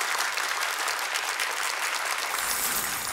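Studio audience applauding on a Russian TV game show, a dense steady wash of many hands clapping for about three seconds, loud and close with no talk over it.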